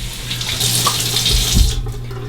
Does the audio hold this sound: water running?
yes